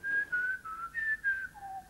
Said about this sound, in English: As he whistles some moronic tune.